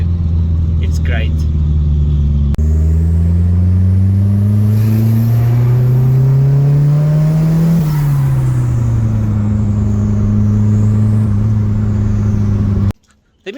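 A turbocharged C20XE engine in an Opel Corsa revs hard, its loud droning note climbing steadily to a peak then dropping back and holding, close by, before cutting off abruptly near the end.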